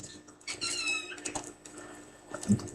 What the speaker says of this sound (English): Kitty cat does talk to me and argue with me.